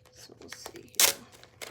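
Scissors snip through a sheet of medium tack transfer tape from 651 Vinyl, one sharp, bright cut standing out amid faint rustling and handling noise, close and fairly quiet.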